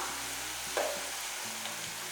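Spices for garlic chutney, including chilli powder, fry in oil with a steady soft sizzle and a brief stir or scrape partway through, close and alone.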